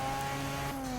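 Turbocharged rotary sports car engine in Forza Motorsport 6 holds a steady high drone that shifts pitch partway through as it pulls, loud and continuous with no talk.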